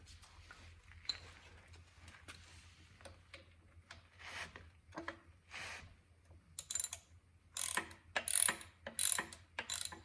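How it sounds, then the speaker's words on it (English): A ratchet wrench tightening bolts while a starter is installed on a Honda K20A2 engine, with quiet clicks at first, then louder bursts of rapid ratcheting toward the end, close by, with no talking. "Just gonna put the starter on here."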